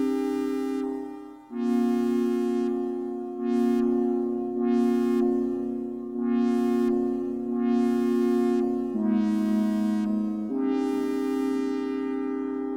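A sustained Behringer Model D synthesizer pad holds a low tone while brighter notes swell in and fade with a long, washy reverb tail from a Boss RV6 pedal.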